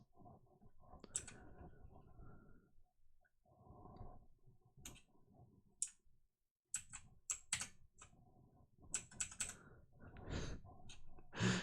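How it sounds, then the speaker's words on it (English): Bursts of computer keyboard typing, quick clattering keystrokes in uneven runs with short pauses, close and fairly loud. "Messing with my keyboard."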